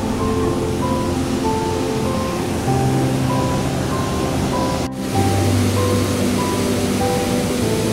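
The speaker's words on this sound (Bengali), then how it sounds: "ওই যে ওইখানে দেখা যাচ্ছে ওয়াটারফল, এটাই হচ্ছে সেই ওয়াটারফলটা।" A waterfall in West Sichuan gives a steady, dense roar of rushing water that holds constant throughout, with a faint low tonal hum beneath and no voices.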